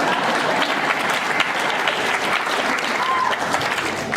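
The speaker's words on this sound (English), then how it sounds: "Or clap, that works too." Audience at a writers' gathering for nonprofits in the Bay Area claps steadily, a dense, even wash of applause filling the room for about four seconds with no pause.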